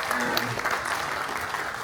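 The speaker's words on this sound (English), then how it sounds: "Round of applause for the whānau." A crowd claps steadily for a couple of seconds, a dense, even patter of applause with faint voices mixed in.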